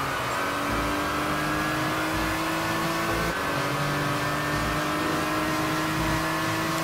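GT3 race car lapping Le Mans in Gran Turismo 6, a loud continuous engine drone with steady high whine and rhythmic low pulses, holding speed without breaks.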